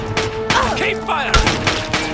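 Gunfire in the video game Fallout 3 crackles in several quick, loud bursts close together over about two seconds.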